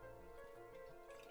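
Vomit spattering wetly onto a floor, a game sound effect in 999: a short, close liquid drip-and-splash texture lasting just over a second, alone with no voices.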